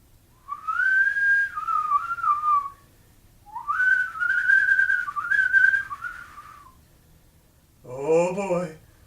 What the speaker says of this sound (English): Oh boy, oh boy, what's that whistling sound?